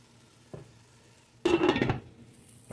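Two large white onions hitting a pan for a chicken liver and gizzard calderita, a faint tap, then a loud burst of sizzling and stirring clatter that quickly settles to a low hiss.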